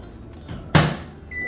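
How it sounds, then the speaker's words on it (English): A microwave door thumps shut close by, and the oven then starts with a low, steady hum and a thin whine. "let's put this inside the microwave"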